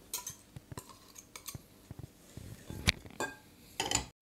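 Ingredients being mixed in a bowl for blueberry muffins, with sugar, two eggs, melted butter and lemon zest: scattered clinks and taps of a utensil against the dish, with a louder clatter near the end, no talking.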